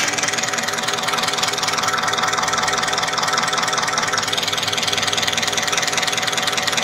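A Mitsubishi Canter diesel engine idling after fuel injection pump calibration, a loud, steady, even rumble with a faint rhythmic knock running throughout, close by and without voices.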